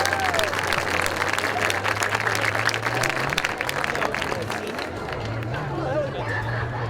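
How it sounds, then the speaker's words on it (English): A school community night for a marching band: the audience breaks into sustained applause for the administration, with dense, steady clapping and crowd noise filling the whole stretch and a low hum running underneath. "Let's give our administration a big round of applause."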